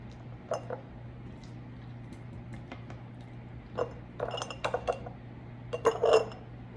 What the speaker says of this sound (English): start ladling them into our jars with the slotted spoon